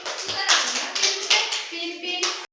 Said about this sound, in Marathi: छान टाळ्या वाजवा सगळ्यांनी